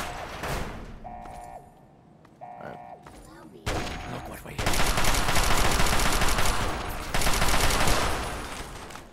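Gunfire in the Fallout 3 video game: a few isolated shots and mechanical clicks, then sustained loud bursts of automatic fire dominating the second half.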